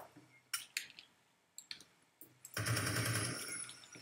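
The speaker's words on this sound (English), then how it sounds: "I got a machine gun." A machine gun fires in a video game: a few sharp isolated shots, then a sustained rattling burst that runs loud to the end.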